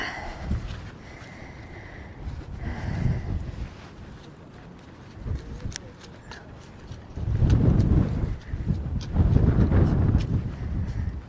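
Wind gusts across the microphone in an open field near Colchester during metal detecting, rumbling in uneven bursts that grow louder and heavier toward the end, with no one talking.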